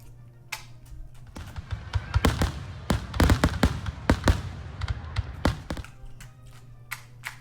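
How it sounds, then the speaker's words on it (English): Fourth of July fireworks go off in a rapid string of sharp pops and crackles, loud and close, thickest in the middle stretch before thinning to a few scattered bangs. "I'm going to give people out there showing this movie a little bit of fireworks."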